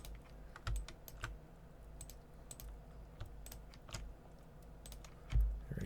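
Mouse clicks on a computer while working through constraint scripts in Maya, sounding as quiet, close clicks scattered irregularly across a few seconds with a couple of heavier desk knocks, no voices.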